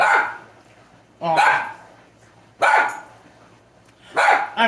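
A dog named Clark barks indoors in three loud, separate bursts spaced about 1.5 seconds apart, close to the listener, with quiet room tone between the barks.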